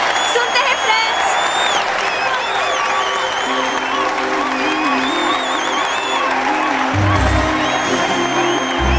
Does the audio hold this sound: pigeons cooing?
no